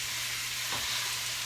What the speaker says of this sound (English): we are just gonna let this cook up